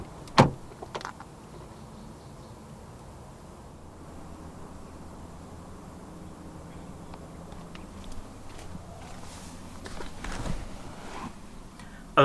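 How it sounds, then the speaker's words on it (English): A 2023 Honda City 1.5 E makes short, sharp lock and unlock clicks from its front door handle area, with one at the start and others near the end, set against a low, steady outdoor hiss. "To lock the car, press the black button on any of the front door handles."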